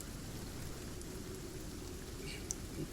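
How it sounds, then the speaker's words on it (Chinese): Rain falls outside as a soft, continuous patter with a faint low rumble beneath, one brief sharper tap near the end, and no talking. "外面不在下雨吗？"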